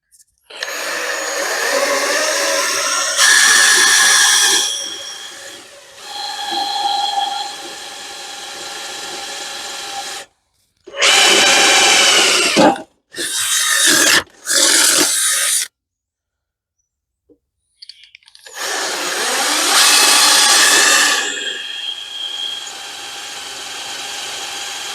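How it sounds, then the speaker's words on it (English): A power drill whirs through the metal of a 1976 Vermeer LS200 log splitter, several loud sustained bursts of drilling separated by pauses and short stops, close by, with occasional talk between runs. "we'll start drilling"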